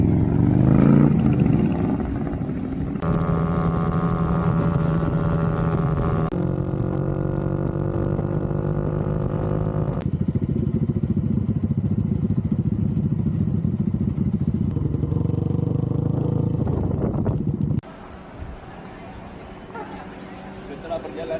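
Motorcycles ridden by a group on a long road trip to Penang, their engines droning steadily close by with shifting pitch as they travel, sometimes changing gear, with wind noise and talk over the top.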